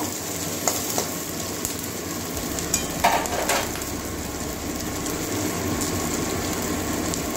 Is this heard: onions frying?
yes